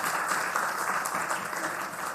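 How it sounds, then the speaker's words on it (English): Brief, steady round of applause from an audience at an economic growth forum, even and sustained throughout with no voices standing out. "Give him a hand clap"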